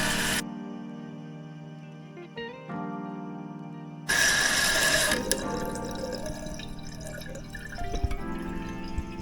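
A toilet tank refills with water after a new fill tube is fitted: a steady close hiss and trickle of incoming water, with a louder surge of rushing flow partway through.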